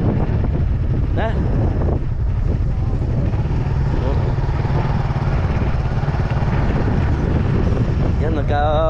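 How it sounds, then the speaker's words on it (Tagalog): Strong typhoon wind roars across a farm where trees are being knocked down, a loud continuous gusting rush buffeting the microphone throughout, with a voice speaking over it. "Lumalakas yung hangin."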